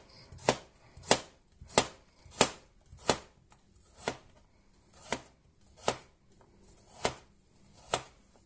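A knife chops potatoes on a cutting board in a steady series of about eleven crisp, evenly spaced cuts, close and clear with no talking.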